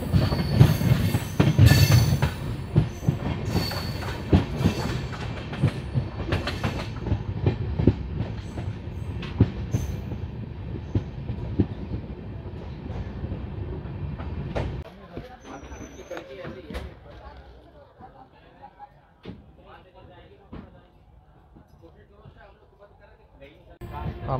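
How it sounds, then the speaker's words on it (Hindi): A Bandra SF express train runs on rails, with clickety-clack of wheels, rolling rumble and brief squeals heard from inside the carriage, and a voice speaking over it before the noise quiets down. "अमरोहा पहुंच रही है ट्रेन।"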